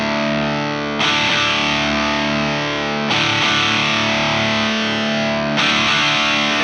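Electric guitar through a Thorpy FX Electric Lightning Chris Buck Signature overdrive pedal, sustained thick driven chords rung out and restruck twice, loud and close with a steady, saturated ring and no talking.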